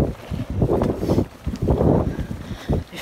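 Gusty wind buffets the microphone on a mountain bike trail, a loud, close, low rumbling roar that swells and dips in uneven surges with no voices.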